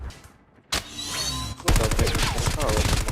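Rapid bursts of video game gunfire from a rooftop crackle loudly and densely in the second half, after a quieter stretch with a few sharper shots.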